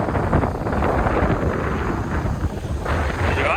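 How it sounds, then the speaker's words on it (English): Strong wind buffets the microphone near a jetty on the Eyre Peninsula, South Australia, producing a loud, continuous low rumble and roar with gusting swells and no speech. "The wind's pretty strong."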